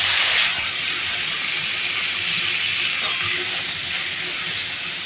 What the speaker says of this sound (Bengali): ফোড়নটা ভাজা হয়ে গেলে তার মধ্যে দিয়ে দেবো কেটে রাখা আলু